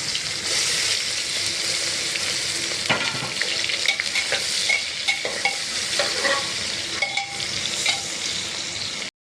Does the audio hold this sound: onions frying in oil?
yes